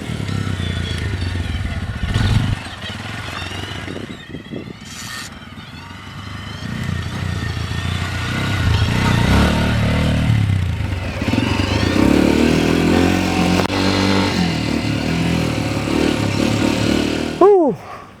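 SYM GY 150 motorcycle ridden off-road, its engine rising and falling through revs and lugging in bursts with clattering knocks, close and loud, while people talk over it intermittently.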